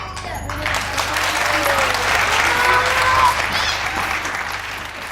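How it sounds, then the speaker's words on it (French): Audience applause at a French school storytelling performance, a steady sustained wash of clapping from a crowd, with voices faintly heard over it. "Mon histoire est terminée, messieurs, mesdames, applaudissez"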